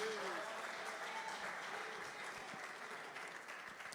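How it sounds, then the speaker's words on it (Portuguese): Congregation in a church clapping loudly and steadily for the full stretch, a dense wash of applause with a voice briefly rising over it near the start. "Uma salva de palmas bem forte para Jesus"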